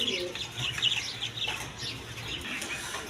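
Pigeons at a busy Bangladeshi pigeon market, a mix of soft cooing, chirps and brief wing flutters close by, with faint market background and no clear speech.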